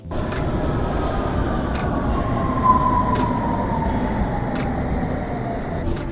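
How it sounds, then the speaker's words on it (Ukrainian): A London Underground metro train rolls along at speed, with a loud, continuous rumbling roar, a faint high whine and regular clacks from the track, and no voices. "лондонське метро одне з найкращих метро в світі за зручністю"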